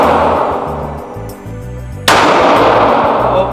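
A single sharp shot from a Glock 45 MOS pistol at a firing session, loud and close, cutting in abruptly over a humming, tonal background and leaving a sustained ringing wash afterward.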